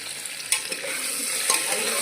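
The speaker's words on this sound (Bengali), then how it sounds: "এই যে কুকারে তেলটা গরম হচ্ছে, এবার আমি 5 ফোড়ন আর তেজপাতা দিয়ে নেব।" Panch phoron and bay leaves crackle in hot oil inside a pressure cooker, a bright close sizzle with sharp spits and a couple of metal spoon clinks, and no voices.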